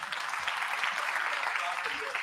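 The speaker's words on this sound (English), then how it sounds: "I request you to give a huge round of applause for global NRI forum." Sustained applause from an audience at a Boston meet-and-greet event honoring the Global NRI Forum, a steady wash of many hands clapping at moderate volume throughout.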